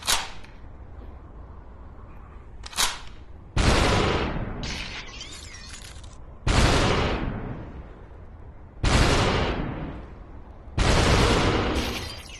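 Gunshots and sharp impacts in the VR game Superhot fire one at a time at spaced intervals, each a loud crack followed by a short decaying tail.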